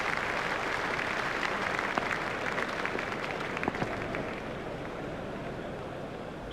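A cricket crowd applauds a batsman's half century, a broad, steady wash of clapping from a large distant stadium audience that carries on without a break, thinning slightly toward the end.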